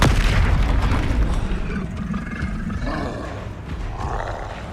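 A Levioso spell cast in the Hogwarts Legacy video game lands as a deep, loud booming roar that swells at the start and then slowly fades, with no speech.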